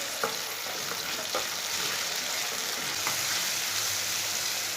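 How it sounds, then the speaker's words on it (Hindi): Finely chopped tomato sautés over a low flame for aloo palak, giving a continuous soft sizzle with occasional light scraping clicks of a stirring spoon, close by and without talk. "1 बारीक कटा हुआ टमाटर डाल लेंगे। इसे भी 2 मिनट के लिए भून लेंगे।"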